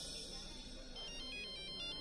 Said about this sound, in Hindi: मेहता साहब, एक सेकंड, इंपॉर्टेंट कॉल